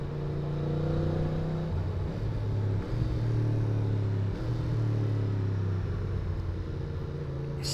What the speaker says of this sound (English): The engine is immense. It's fucking glorious. I mean, listen to that. The downshifts as well.